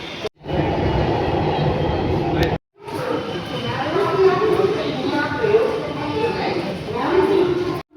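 Steady rumble of a train ride toward Kanpur Central, with continuous rolling noise through the carriage and a brief cut in the middle, while someone talks over it.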